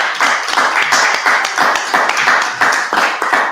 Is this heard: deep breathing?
no